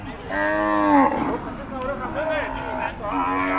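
Water buffalo at a livestock market in Yasothon give several loud, close, drawn-out lowing calls that rise and fall one after another, with market chatter underneath.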